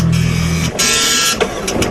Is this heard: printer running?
yes